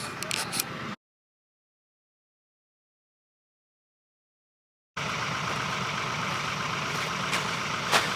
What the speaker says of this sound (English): the tractor decided to go into regen mode in the middle of moving some dirt from the project earlier, while that's doing that